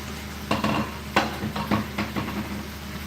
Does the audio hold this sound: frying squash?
yes